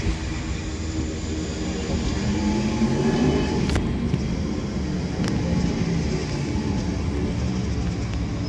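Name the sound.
London Northwestern Railway train arriving at Runcorn station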